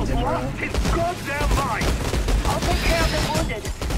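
Rapid bursts of gunfire rattle in the Outriders video game, mixed with quick layered shots and impacts while a player's voice talks over the action.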